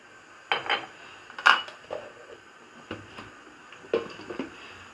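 A spoon clinks and scrapes against a cooking pot as garam masala powder and cumin are stirred into a spicy chicken curry, several separate metallic knocks spaced out over quiet background.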